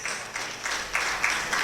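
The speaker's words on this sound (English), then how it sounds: "Let's clap," An audience at a Rotary club installation show claps together in a steady burst of applause, rising and falling in waves for under two seconds, with no voices over it.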